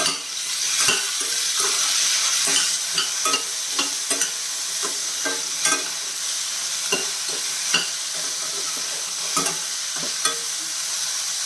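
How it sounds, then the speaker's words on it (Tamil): Onions and ash gourd sauté in a hot pan while a spoon stirs them, giving steady sizzling broken by regular scraping clicks against the metal. The sound is close and fairly loud, and nobody speaks. "நல்லா வதக்கட்டும் வெங்காயம் வந்து பாதி வதங்கிச்சு"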